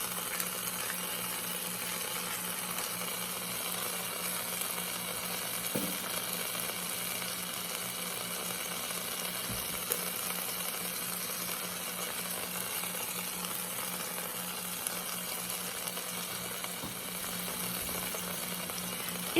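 Pot roast meat browning in a hot pan for Mississippi pot roast, giving a steady, continuous sizzle with a soft crackle that stays even and moderately close throughout, with no talking.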